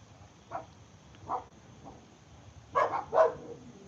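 A dog barks several times: single barks spaced out, then two louder barks close together near the end, over quiet background.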